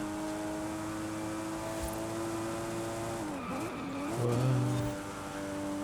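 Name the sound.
car accelerating on a straight in Forza Horizon 5 video game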